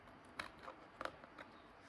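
Faint, quiet snips of scissors cutting adhesive tape, three or four short crisp cuts spaced irregularly, close by with a hushed background and no talking.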